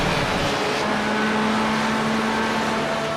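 An Aston Martin GT4 race car engine in the iRacing video game, droning steadily at high revs at the Nürburgring, a continuous mechanical roar with a faint whine, no voices over it.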